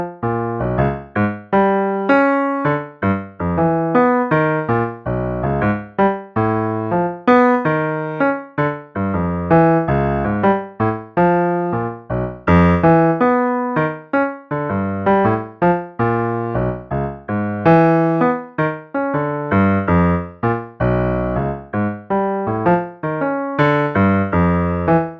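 Jazz vamp on piano with tritone responses landing on shifting beats: a steady, dense pattern of chords repeating throughout, played alone without talk.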